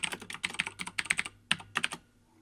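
Code is typed on a computer keyboard while scripting a game object: quick, close clicky keystrokes come in uneven bursts, then stop near the end with a short quiet tail.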